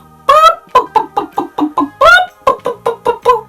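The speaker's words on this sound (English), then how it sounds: "And what sound does the hen make?" A hen clucks in a quick series of short, rhythmic calls, with two longer, louder squawking clucks between them. The sound is close and clear, with no talking.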